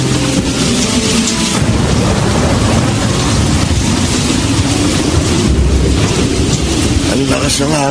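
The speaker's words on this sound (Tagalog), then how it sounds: "Ang lakas ng hangin at hampas ng alon." Strong wind roars steadily with heavy surf crashing at the shore, a loud continuous wash of noise with surges and rumbling low swells, no talking over it.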